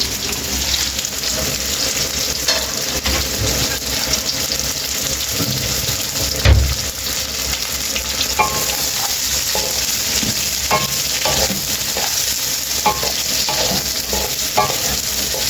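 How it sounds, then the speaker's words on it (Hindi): Radish sizzles steadily as it fries in a pan, with a spoon stirring and scraping at irregular intervals throughout, close and continuous with no talk. "इसको थोड़ी देर फ्राई करना हमने, तकरीबन 3-4 मिनट के लिए।"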